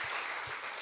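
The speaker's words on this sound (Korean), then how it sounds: "a dar un gran aplauso a ustedes que son personas muy valiosas dándole gloria a Dios." A church congregation claps steadily at a Friday evening evangelism service at Daegu Hana Church, a dense, even patter of many hands filling the short moment with no voices over it.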